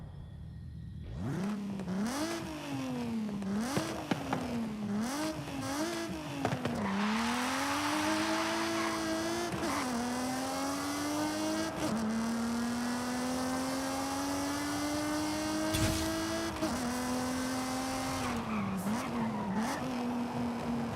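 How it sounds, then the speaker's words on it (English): A Nissan 350Z engine in the Forza Motorsport racing game revs up and down through repeated gear changes, then holds a long rising drone with faint tyre squeal, loud and continuous with no talk. "You remember the sound of the 350Z, right?"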